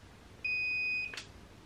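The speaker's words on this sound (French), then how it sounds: "Vous entendrez un bip et l'écran LCD s'ouvrira." A cordless hair curler powers on with a single clear electronic beep, held steady for under a second, then a short soft click. It is close and alone against a quiet background.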